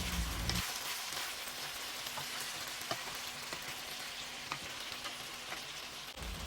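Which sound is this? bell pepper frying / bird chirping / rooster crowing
bell pepper frying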